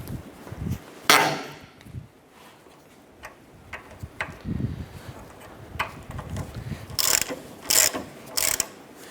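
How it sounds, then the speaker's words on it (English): A breaker bar with a 19mm socket ratchets and clicks while loosening the ball joint nut on a 2008-2012 Honda Accord's front lower control arm, giving irregular close metallic ticks and a few louder clanks, with no voices. "Let's go ahead and loosen this nut."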